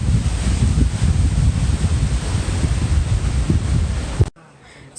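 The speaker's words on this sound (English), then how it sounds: "So it's very windy outside, like you already heard." Strong gusts of wind, reaching up to 60 mph, roar around an RV camper in a loud, continuous rush that buffets the microphone. The roar cuts off suddenly near the end.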